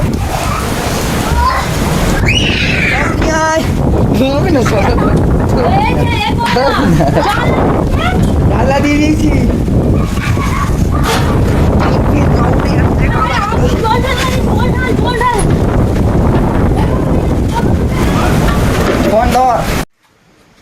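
A storm wind in Nepal roars into the microphone as loud, continuous buffeting, with excited voices talking and shouting over it throughout.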